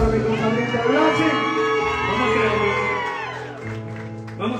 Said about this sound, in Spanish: Señores, un aplauso que se siente para mi compañero Blasi.